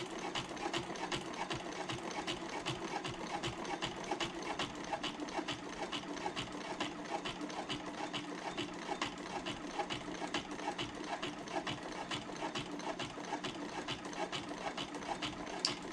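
A sewing machine stitches steadily along the long edge of a handbag zipper pocket, a close, even mechanical whir with a fast regular needle rhythm that holds without a break.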